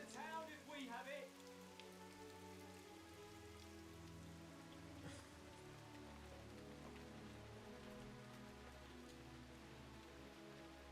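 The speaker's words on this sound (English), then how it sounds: "You like that little rain effect?" Soft patter of rain plays as an ambient effect in the video game The Last Story, a faint, steady hiss under a low sustained musical drone, with a brief brighter flurry at the start.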